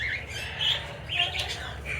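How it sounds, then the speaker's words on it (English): Parakeets and cockatiels chirping in a walk-in free-flight aviary, quick bright tweets and squawks coming in short bursts over a low background rumble. "There's one little parakeet loose"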